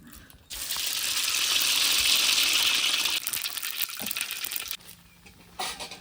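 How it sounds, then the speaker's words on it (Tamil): Oil poured into a hot kadai pan on a village cooking setup for goat mixed-parts gravy, giving a loud steady gushing hiss for several seconds that cuts off abruptly, followed by quieter clattering and a short final burst. "நான் அப்புறமா எண்ணெய் ஊற்றிட்டு வந்து பேசுகிறேன்."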